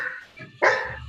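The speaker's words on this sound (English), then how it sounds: "they can bark and I'll give them like food to shut them up" Dogs barking nearby, with a short yip and a louder sharp bark coming after a brief pause, fairly quiet overall.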